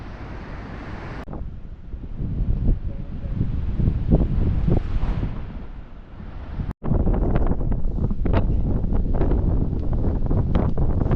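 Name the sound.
wind blowing at Madeira's north coast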